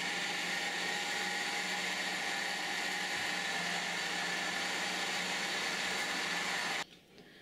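A blender whirs steadily as it mixes bananas, ice cream and milk into a milkshake, a constant loud motor drone that cuts off abruptly near the end.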